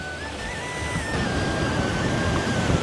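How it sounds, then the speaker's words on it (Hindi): Clear water flowing beneath a spot in a village, a steady broadband rush with no pauses, fairly loud and close, with no talking over it. "तो पानी जो है इसके नीचे से जा रहा है।"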